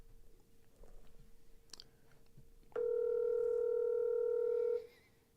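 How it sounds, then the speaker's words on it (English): A phone call rings out in a quiet room: a steady electronic tone sounds for about two seconds after faint background noise, then cuts off. "All right, I'm calling my mom."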